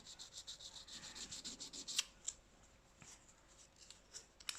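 Milliput filler on a ceramic piece is sanded by hand, quiet rhythmic rubbing strokes close up, a few sharper scrapes and taps toward the end.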